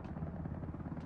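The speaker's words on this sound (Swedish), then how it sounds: "det är en helikopter på plattan just nu" A helicopter on the landing pad in the video game Ring of Elysium gives a steady low rotor drone, close and continuous, with no talk over it.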